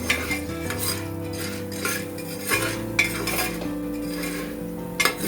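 A spoon stirs popcorn kernels with turmeric powder in a pressure cooker, scraping and clinking against the metal pot in repeated strokes, with a faint sizzle underneath and no voices.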